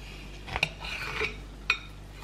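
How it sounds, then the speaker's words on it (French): A knife cuts through a cooked sweet potato on a plate or board, making a few faint, sharp clinks and scrapes spaced apart, with no talk. "Je vais simplement la couper en deux."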